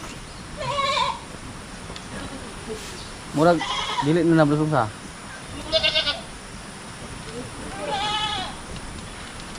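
Goats in a growing farm herd bleat several times in loud, wavering cries close by, with a person talking over and between the calls.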